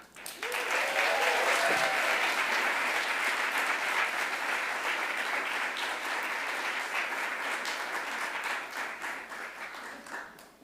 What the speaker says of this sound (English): I want you to all to give a rock star round of applause to Enuma